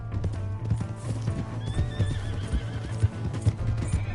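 Hooves clip-clop in a quick, steady gallop close by while a horse whinnies loudly over the rhythm, with a bit of shouting mixed in.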